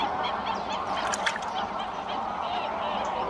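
A flock of greylag geese honks continuously in Doñana, several calls overlapping in a busy, moderately distant chorus.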